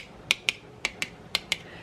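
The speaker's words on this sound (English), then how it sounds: "you'll hear the little pop," Lids of sealed home-canned jars pop in three quick pairs of sharp, bright clicks, close and clear over a quiet kitchen background.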